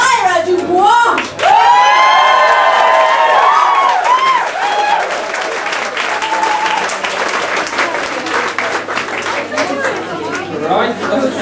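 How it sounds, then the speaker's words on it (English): Loud, full crowd applause with cheering, whoops and squeals greets drag comedian Myra Dubois at a live show, a dense roar with shouting voices and chatter mixed in, staying strong throughout. "a really big round of applause, lots of naughty girls, naughty boys squeal,"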